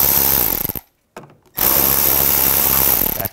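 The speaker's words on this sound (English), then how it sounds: "Just use an 8 millimeter socket." A power tool with an 8 mm socket spins bolts off under a 2006–2010 BMW 550i 4.8L V8 near the transmission, giving loud close whirring bursts broken by a short near-silent gap.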